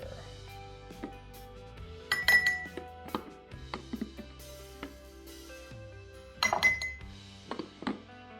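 Glass jars clink and clatter as garlic and pickling liquid go into each one for homemade dill pickles, with scattered sharp chinks and a couple of louder bursts of glass knocking against glass, up close and without talk.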